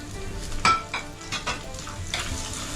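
Ginger, garlic, chili and curry leaves sautéing in hot oil, a steady soft sizzle broken by a few louder stirring scrapes of a spoon against the pan.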